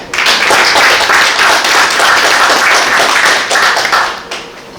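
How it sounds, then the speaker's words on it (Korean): Audience applause welcoming the head of the Geumsan Cultural Center to the stage at a local history forum, with dense, steady clapping from a crowd that fills the room, loud and continuous before tapering off at the end. "여러분들 큰 박수로 맞이해 주시기 바랍니다"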